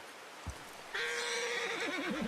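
A horse in the video game Red Dead Redemption 2 lets out a loud, long, wavering whinny after a brief thud, heard up close with no talking.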